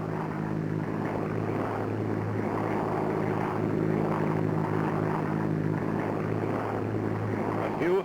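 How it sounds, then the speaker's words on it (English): A propeller airplane flies throttled back at about 100 miles an hour, side-slipping over a drop area marked by smoke: a steady, droning engine hum with a low, even tone that holds through the whole stretch without pause. "Only 100 miles an hour, throttle all the way back, side slipping to come over the dropping area."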